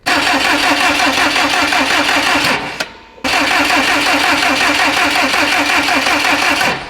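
A built Subaru STI engine fires up for its first start and runs loudly and continuously, cuts out briefly near the middle, then catches again and keeps running strongly to the end.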